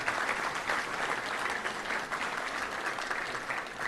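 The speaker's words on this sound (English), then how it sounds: "Let's give them all a big round of applause, our Touchdown Club team." A crowd at a Touchdown Club luncheon gives a hearty round of applause for the club's team, dense, even clapping from many people that stays loud and steady throughout.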